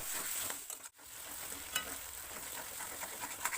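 Katla fish roe frying in oil is stirred in the pan with a soft continuous sizzle, broken by a brief pause and a few scraping stirs, close and fairly quiet.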